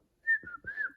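A person whistles a short two-part melody up close, a clear bright tone with a brief pause between the phrases and no other sounds around it.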